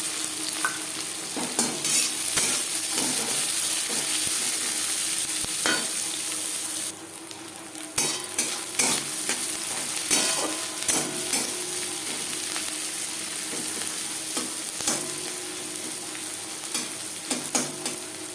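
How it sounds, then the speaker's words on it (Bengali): Chopped onions frying in three spoons of hot refined oil, a continuous close sizzle with a sharp burst as they hit the pan, then a run of rhythmic spoon scrapes and taps while stirring. "তিন চামচ রিফাইন্ড অয়েল গরম করে নিয়েছি দিয়ে দেবো পেঁয়াজ কুচি"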